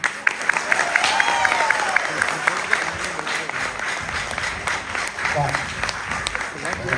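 An audience at a Tamil stand-up comedy show claps and applauds steadily at moderate volume, with some crowd voices mixed into the clapping throughout.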